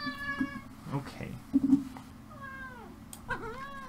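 A house cat meows several times, close to the microphone, with short drawn-out cries spread across a few seconds; a person talks softly around the calls.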